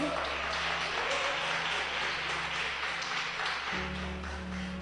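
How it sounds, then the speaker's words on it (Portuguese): A church congregation applauds during a Portuguese-language sermon, a steady wash of clapping running the whole time with a sustained musical tone underneath that shifts near the end. "Você pode dar um aplauso para o Senhor?"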